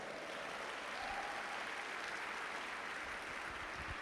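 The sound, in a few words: congregation applauding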